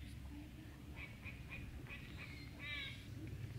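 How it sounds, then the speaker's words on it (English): A squirrel barking in an autumn forest at a state park canyon, a series of short, faint, repeated chirping calls at a distance over a steady outdoor background. "It is actually not a bird, but a squirrel barking at us."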